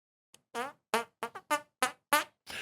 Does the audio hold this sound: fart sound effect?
yes